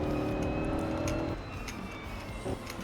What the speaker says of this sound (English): the car sounds insane from this perspective